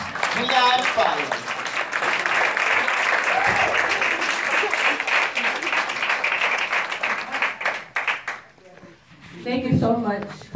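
A crowd at a women's community gathering breaks into sustained applause, dense and steady for about eight seconds before tapering off, with a speaker's voice heard at the start and end.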